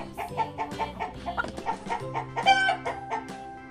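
A hen clucks repeatedly in a quick, uneven series of close, clear calls with a rooster-like crow mixed in; no talking.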